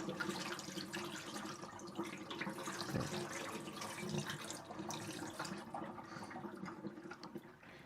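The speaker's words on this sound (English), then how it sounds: "Just throw away the water, and this one as well." Water pours and splashes steadily into a sink as it is emptied out of a Petkit Eversweet Solo pet drinking fountain, a continuous close running wash with no voices.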